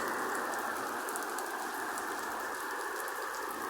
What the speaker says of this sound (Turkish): Bayağı bir güzel yağmur yağmaya başladı.